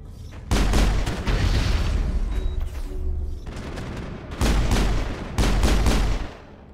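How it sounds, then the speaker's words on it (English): Poisonous exploding Rachni blasts in the video game Mass Effect: a run of heavy booming bursts, loud and close, rising in clusters over a rumbling battle background. "Poisonous exploding Rachni."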